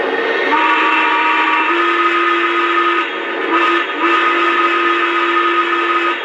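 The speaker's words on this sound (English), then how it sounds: "Alright, so here's the whistle." A Lionel 2-8-8-2 steam locomotive model train sounds its whistle. It is a loud, close, chord-like tone held for several seconds, with a short break and one more sustained blast.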